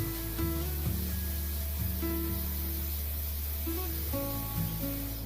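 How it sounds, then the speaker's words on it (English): A sprayer mists an apple tree outdoors, giving a steady broadband hiss that runs unbroken for several seconds alongside sustained tonal music in the background. "and now I will go and spray my tree"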